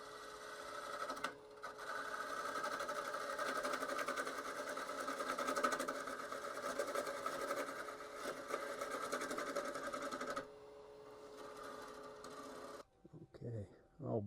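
A koa wood bowl spins on a wood lathe as its bottom is cleaned up, giving a steady, continuous whirring hum with scraping texture for about ten seconds, then it quiets and ends in brief handling noises.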